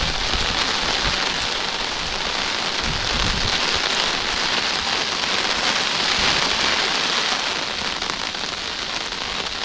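Heavy rain pours steadily during a river flood, a dense, loud hiss of drops striking water and surfaces that continues without a break from start to finish.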